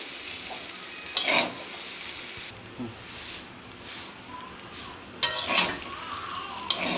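Fried rice is stirred in a pan in a home kitchen, with a low sizzle underneath and several loud metallic scrapes and clinks of a spatula against the pan at intervals.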